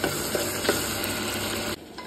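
Green chillies and tomatoes sizzling in a pan while being stirred, a steady close frying hiss with scraping spoon strokes that briefly drops in level near the end.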